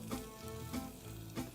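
Chopped onion sweats in olive oil in a pan with a soft, steady sizzle and a few faint stirring sounds.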